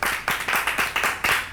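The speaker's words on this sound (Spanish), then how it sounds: "Voy a aplaudir." One person claps hands at a steady, slightly slow pace, about eight crisp claps close by, each sharp and evenly spaced, with no other voices.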